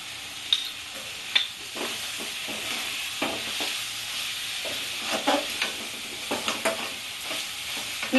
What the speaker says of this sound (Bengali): আমি এবার জিরা বাটাটা দেব